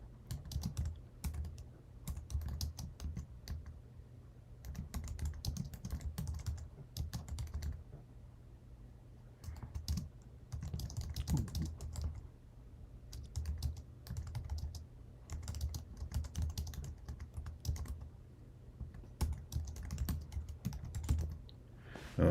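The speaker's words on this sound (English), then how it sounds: "Apple keyboard clunking in the background there." Someone types on a big, clunky wired Apple keyboard in bursts of key clatter with short pauses between, fairly quiet and close, with no talk.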